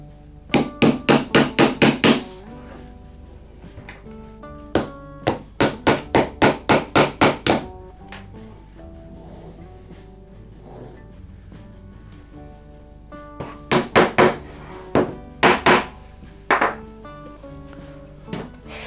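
A stretched painting canvas being prepared for acrylic pouring is tapped by hand in quick bursts of about five to eight sharp, drum-like knocks, with pauses between groups; close and fairly loud, no talk.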